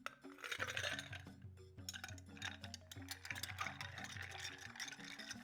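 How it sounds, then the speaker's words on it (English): Ice clinks and rattles as a banana tiki-style cocktail is stirred in a mixing glass, a continuous quick jingle of cubes against glass, close and fairly quiet. "We're gonna stir this cocktail with ice and strain it into a rocks glass."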